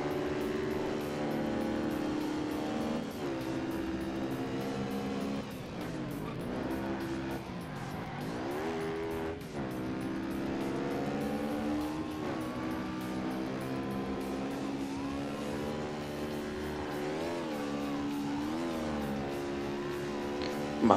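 Engine of a Mini in Ford Racing 3 roars steadily through a race, its pitch climbing and dropping with gear shifts and cornering, loud and continuous throughout with no talk.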